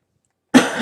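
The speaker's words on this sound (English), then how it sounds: "Sorry for the coughing." A single sharp cough bursts out after half a second of silence, close to the microphone and loud, trailing off into a rough throat sound.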